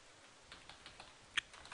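A few soft, scattered keystrokes on a computer keyboard, quiet and close in an otherwise hushed room, with one sharper key tap standing out.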